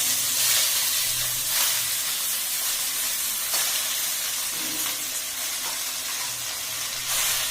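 Genhari saag greens sizzle and hiss in a hot pan, a steady crackling fry with faint clatters, continuous and close throughout.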